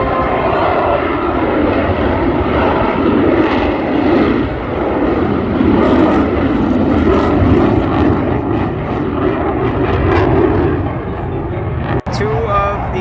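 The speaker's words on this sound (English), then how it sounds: "The F-22 is currently doing a low-speed pass" An F-22 fighter jet making a low-speed pass at the Great Texas Airshow, its engine roar loud and steady throughout, with crowd chatter and voices underneath.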